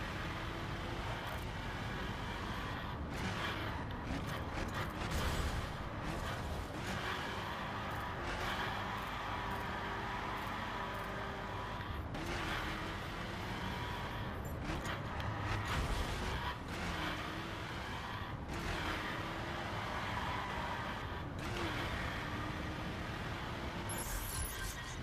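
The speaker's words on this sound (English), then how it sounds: "Sounds like the engine's running a bit better." A car engine in The Crew racing video game drones steadily and loudly from start to finish, with small rises and dips in pitch and no voices over it.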